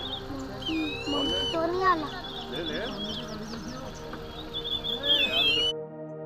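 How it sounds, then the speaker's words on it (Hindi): Birds chirp and twitter busily at a Hanuman temple on a high mountain peak near Nainital, many quick overlapping calls close by, with someone talking underneath. "आप यह सुनिए, यहाँ पर चिड़ियों की चहचहाट।"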